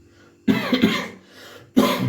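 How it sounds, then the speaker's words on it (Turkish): Two harsh, loud coughs close by, separated by a brief breathy pause. "öksürüyorum"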